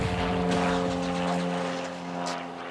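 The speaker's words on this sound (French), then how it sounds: "Ils sont aidés par des collègues en hélicoptère qui observent discrètement l'intérieur de la cité." Police helicopter flying over a housing estate in Lyon at night, heard as a sustained droning engine hum with steady tonal whine, moderately loud and slowly fading slightly, with no speech.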